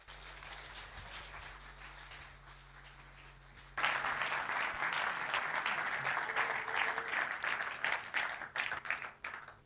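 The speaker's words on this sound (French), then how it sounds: "Merci de réserver un tonnerre d'applaudissements pour Fabrice." A crowd bursts into loud, sustained applause after a quieter stretch, many hands clapping steadily and close.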